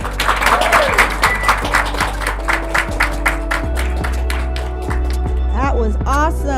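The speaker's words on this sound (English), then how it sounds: "Give her another round of applause." Applause from a women's photography conference audience, with a burst of clapping at the start that continues in scattered form under a voice addressing the crowd.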